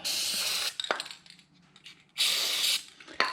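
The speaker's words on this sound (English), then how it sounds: "Spray a little grease." Two long hissing bursts from an aerosol grease can during a C5 Corvette brake change, separated by a pause with light clicks and handling noise; close and fairly loud.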